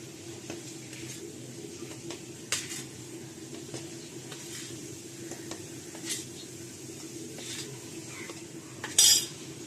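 Metal spoon scraping and clinking as homemade garam masala is moved into an old spice container, with soft repeated scrapes and a few sharper taps, including a brief louder clatter near the end.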